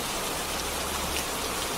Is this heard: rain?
yes